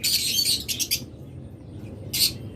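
Red-winged lovebirds chirp in shrill, rapid bursts: a busy cluster at first, a pause, then another short sharp flurry nearby.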